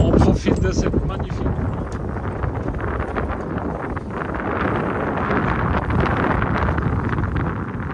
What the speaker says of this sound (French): Là, ça souffle quand même fort.